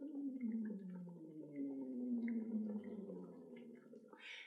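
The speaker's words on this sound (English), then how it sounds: "I want that water to bubble just like this." Falsetto voice sliding downward while singing into a water-filled DoctorVox tube, the water bubbling steadily throughout, with a brief brighter hiss near the end.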